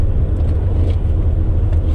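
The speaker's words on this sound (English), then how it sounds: "the idle control is taking care of it, running right about, 700 RPM" A Jeep Grand Cherokee ZJ 4.0 engine with a manual transmission idles steadily at about 700 RPM in a deep sand wash, a close, even low rumble holding constant with no voices.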